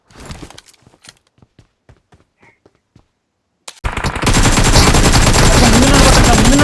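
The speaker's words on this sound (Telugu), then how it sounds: "రీలోడ్ వేసుకొని కొట్టు గన్ను" Gunfire from the mobile battle royale game BGMI: sparse single shots and footstep-like taps at first, then a sudden loud, sustained burst of automatic fire that continues to the end.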